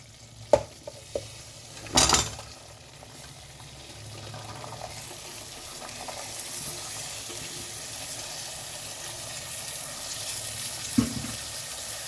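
Cluster beans and potatoes drop into hot oil with a brief loud clatter, followed by a steady broad sizzle of frying on low flame, with occasional soft knocks of a spoon stirring in the pan.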